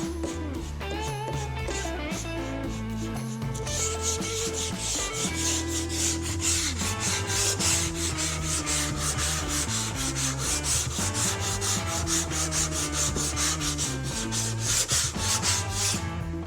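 Guide coat and epoxy primer being sanded on the body of a 1965 Rambler, a steady rubbing scrape running continuously throughout with brief changes in stroke, close and loud, no talking.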